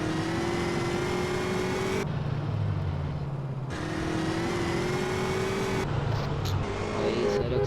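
A car drives off-road in the video game GTA San Andreas: a loud, droning engine whose pitch climbs steadily in two long revving runs, each broken off abruptly, with tire and gravel noise between.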